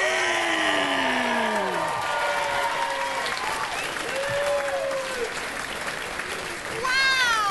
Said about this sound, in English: let's bring her out right now with a great, big, gigantic round of applause